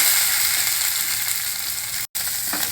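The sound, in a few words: chopped okra (lady's fingers) stir-frying in pan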